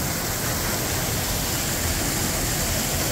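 From right behind the falls at Camp Creek Falls, a steady, loud roar of cascading water fills everything, a close, constant broadband rush with no speech.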